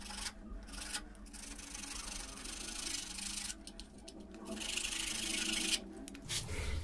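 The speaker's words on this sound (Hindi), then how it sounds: "तो अलग करने के लिए मेरे पास ये आरी है," Hand saw cutting through an LED strip during a light repair, a steady close rasping scrape running continuously with brief pauses between strokes.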